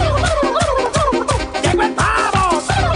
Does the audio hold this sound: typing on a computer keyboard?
no